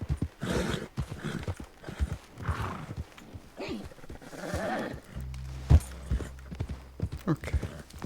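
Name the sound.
horse walking, clip-clop hooves in the video game Red Dead Redemption 2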